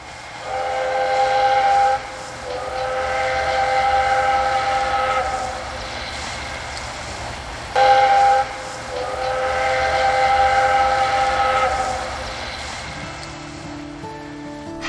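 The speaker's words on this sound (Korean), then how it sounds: "느릿느릿 기차는 강가를 달린다." A slow old-style train runs along a riverside line, its steam whistle sounding in two long, loud blasts over a steady rolling rumble of wheels, close by.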